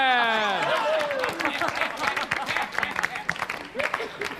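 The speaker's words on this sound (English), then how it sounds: "let's have a round of applause for the weatherman" Audience applause at an outdoor celebration performance of an original musical, steady dense clapping throughout, starting under a held musical chord that fades in the first second.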